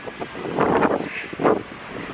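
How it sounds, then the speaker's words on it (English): Wind blowing outdoors on a winter day, gusting and buffeting against the microphone in a couple of rough surges over low steady rumble. "Pretty windy out,"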